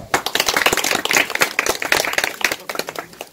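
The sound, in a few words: audience applause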